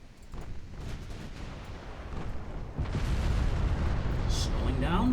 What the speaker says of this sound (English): Let's try explosive rounds.